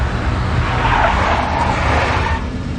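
In the video game Max Payne Mobile, the tires of a big black Mercedes squeal and skid in a sustained, loud screech over a rumbling engine, lasting nearly three seconds before easing off.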